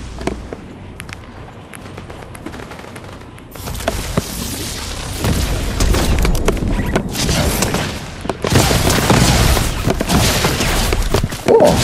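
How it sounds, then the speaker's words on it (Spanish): Gunshots ring out in the video game Fortnite: scattered sharp cracks and bursts, sparse at first, then a denser, louder run of rapid fire with booming impacts. "Hay disparos hacia acá."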